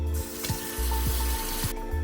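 Water is poured and sloshed over freshly gathered cicadas being rinsed, making a steady, close splashing rush broken by a few low thumps as the container shifts.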